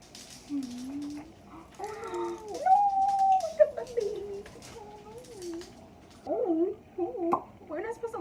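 A big dog howls in long, wavering, rising and falling cries, with a few short bursts near the end, while people talk and laugh around it.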